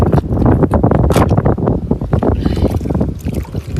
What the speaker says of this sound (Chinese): 这又起风了，风好大呀！